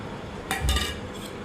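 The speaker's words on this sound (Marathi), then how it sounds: "मोहरीची बी टाकत आहे मीठ टाकत आहे" Mustard seeds and salt tipped into a dish of chopped limes for lime pickle give a brief metallic clink and rattle of utensils against a pan, close and alone.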